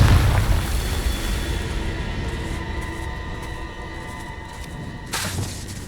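A Confringo fire spell goes off in the Hogwarts Legacy video game, a loud low boom with a rumbling wash that slowly fades, then a second sharp burst near the end.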